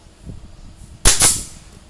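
A staple gun fires into the rim at the base of a rattan basket, one sharp loud close snap with a quick second crack right after, over quiet room noise.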